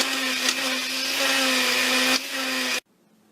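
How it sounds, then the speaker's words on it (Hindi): A kitchen grinder whirs loud and steady as it grinds whole spices with onion into a paya masala, its motor drone dipping slightly before cutting off abruptly into near silence. "ऑनियन डाल के इनको ग्राइंड कर लेते हैं।"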